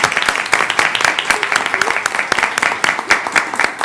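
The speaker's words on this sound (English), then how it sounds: "let's give her a round of applause." Loud, close applause and clapping from attendees at a county commissioners court meeting in El Paso, short and irregular with distinct individual claps standing out.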